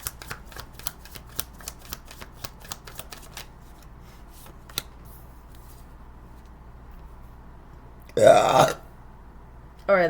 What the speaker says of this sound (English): that was a great burp of confirmation